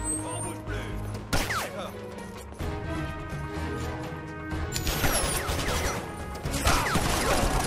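Loud crashes and bursts of gunfire amid mechanical clatter in the shooter game Conflict: Denied Ops during a raid on an oil refinery, with a grenade blast and heavy debris.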